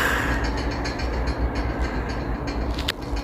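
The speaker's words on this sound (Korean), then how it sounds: "부준행 열차가 들어오고 있습니다." A Donghae Line commuter train rumbles steadily into Mangyang Station, a loud continuous low roar with a brief squeal near the end.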